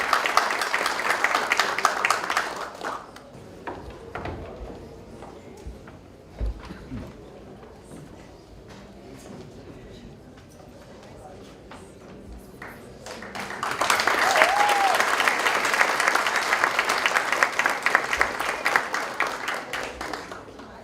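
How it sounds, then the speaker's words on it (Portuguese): An audience applauds at an economics award ceremony, with a burst of clapping at the start, a quieter stretch, then a longer, fuller round of applause lasting to the end. "uma salva de palmas"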